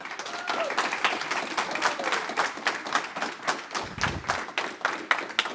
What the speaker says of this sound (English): Give them an applaud.